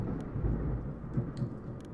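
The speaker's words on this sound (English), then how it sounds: "I don't know if you guys can hear that thunder" Thunder rumbling outside during a storm, a steady deep low roll with faint crackles and rain hiss, heard muffled from indoors with no voices over it.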